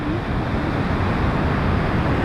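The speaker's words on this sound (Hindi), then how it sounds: "अब बारिश रुक गया, हवा चलता है" Wind blows after the rain has stopped in a flood-hit Tibetan colony in Kullu, Himachal Pradesh. It is a loud, steady, rushing roar that buffets the microphone without pause.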